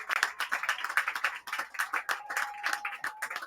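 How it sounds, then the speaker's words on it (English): Spectators at a men's soccer match clap for substituted players leaving the field, a sparse, uneven patter of individual hands, fairly close, with a faint tone lingering in the background. "Substitution for Steel City, leaving the field. Big round of applause."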